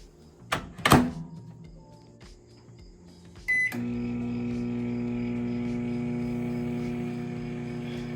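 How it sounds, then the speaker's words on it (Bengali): A 900 W microwave oven starts up with a bowl of potato fries inside: a door thunk and brief beeps, then a steady, even electric hum with a low drone that carries on unbroken to the end. "এবার আমি বাটিটিকে মাইক্রো ওভেনের মধ্যে দিয়ে দেব আমার মাইক্রো ওভেনটা হচ্ছে নশো ওয়াটের তো আমি এখন দেব পাঁচ মিনিট"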